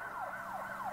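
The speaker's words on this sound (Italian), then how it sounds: "Sentiamo delle sirene in lontananza." Emergency sirens wailing continuously in a repeating up-and-down sweep, sounding somewhat distant and steady, with no voices over them.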